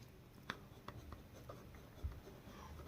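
Chalk taps and scrapes across a board while a physics problem is written, faint scattered strokes and light knocks in a quiet room with no voice.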